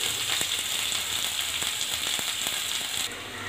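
Crushed garlic and small onions sautéing in oil in a pan for a Tamil cluster bean poriyal, a steady close sizzle with scattered small pops and crackles throughout.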